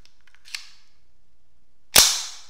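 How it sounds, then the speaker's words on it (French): A MAB model R pistol in 7.65 mm (.32 ACP) gives a small metallic click, followed after a pause by one sharp, loud metallic snap as the slide slams forward, close up with no voices. "on réinsère le chargeur, la culasse repart en avant"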